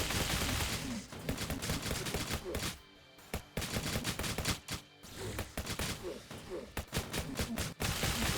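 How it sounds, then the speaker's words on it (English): Rapid carbine gunfire in a top-down zombie survival roguelite shooter, loud clattering bursts of shots with a couple of brief pauses between volleys. "Let's try this carbine of some kind, which is a bit slower than the bullpup."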